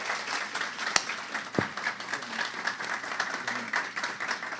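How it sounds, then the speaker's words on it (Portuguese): A church congregation applauds a member's birthday, a continuous wash of many hands clapping at moderate volume, with a couple of sharp thumps near the start and a faint voice murmuring underneath. "vamos aplaudir nosso irmão que está fazendo aniversário."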